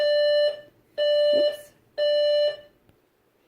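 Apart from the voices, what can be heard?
alarm going off at 7 in the morning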